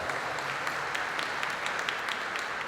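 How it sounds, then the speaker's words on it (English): Audience applause at an NAACP convention fills the hall, a steady, moderately distant wash of many hands clapping with scattered sharper claps throughout. "they deserve a round of applause."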